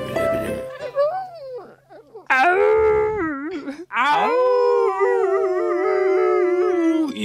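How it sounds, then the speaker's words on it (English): The mythical three-headed dog Cerberus howls in a retelling of the Orpheus myth: long, wavering, loud howls with pitch slides, a brief yip, and a short gap between cries. "Cerberus, the three-headed dog, was lulled to sleep by the beautiful music coming from Orpheus's lyre"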